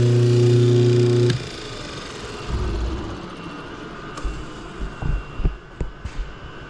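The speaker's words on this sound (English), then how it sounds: "So I'm going to shut the pump off now." A pump in a biodiesel processing setup runs with a loud, steady hum for about a second before being switched off. Scattered thumps and handling knocks follow in the quieter aftermath.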